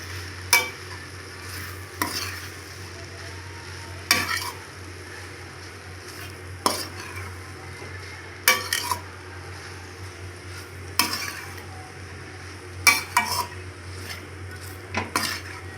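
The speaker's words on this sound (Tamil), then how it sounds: "நல்லா பிரட்டி விட்டுறலாம்." Chilli parotta being tossed with salt and sugar in a pan, a low background sizzle punctuated by about a dozen sharp metallic clanks and scrapes of a spatula against the pan at irregular intervals.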